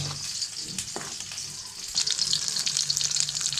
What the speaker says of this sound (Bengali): চিকেনটা আমি তেলের মধ্যে দিয়ে দিয়েছি, এখন লাল করে ভেজে নেব।